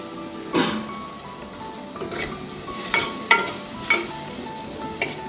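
Masala in a pan sizzles gently after water is poured in, with a spoon stirring and scraping against the metal in several distinct clinks and strokes, close and fairly quiet.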